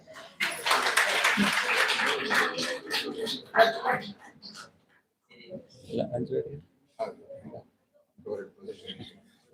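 Audience clapping at an academic invited-talk ceremony honouring a professor, a dense burst for roughly five seconds that stops abruptly, followed by a person speaking in a hall.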